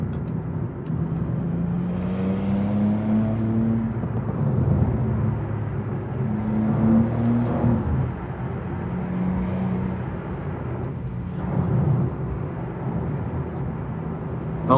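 A nearly new 2024 BMW M2 on a 2024 plate is driven on the road at moderate pace, its engine note holding steady and rising and falling with gear changes under constant road and tyre noise from inside the car.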